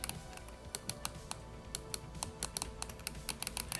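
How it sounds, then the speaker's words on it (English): The L and R shoulder buttons on an Anbernic RG552 handheld being pressed repeatedly, sharp close clicks in quick irregular bursts with no other sound. "Both L and R buttons on the top are very clicky."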